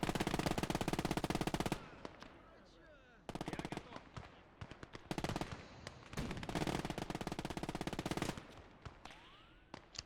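In the World War II game Gates of Hell, an MG42 machine gun fires long rattling bursts of very rapid shots broken by short gaps, with scattered battle noise between them.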